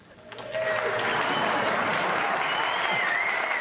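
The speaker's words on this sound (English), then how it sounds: "I can get you a round of applause without even saying a line." Studio audience at a TV comedy sketch show breaks into a round of applause that swells quickly within half a second, then holds as a dense, steady roar of clapping with a few whoops on top.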